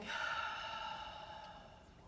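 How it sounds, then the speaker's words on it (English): A single deep, slow exhale during a guided breathing exercise, soft and close, fading gradually over about two seconds with no talking. "And exhale, fully relaxing."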